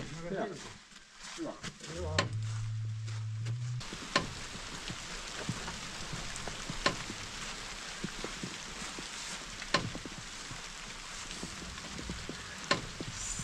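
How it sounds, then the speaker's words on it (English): Rain falls steadily as a broad, hissing patter outdoors, with occasional sharper drips and taps over a continuous wash, after a brief low rumble and some movement at the start. "Stupid rain, not again."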